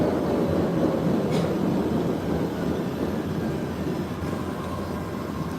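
An MBTA Red Line subway train rumbling along the tracks in a steady, loud, continuous roar, with a faint squeal and click now and then.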